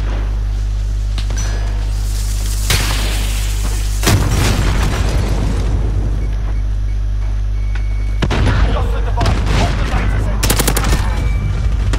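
Bursts of loud gunfire and booming blasts crash through a multiplayer shooter video game match, with rapid rattling shots and heavy impacts repeating over about twelve seconds.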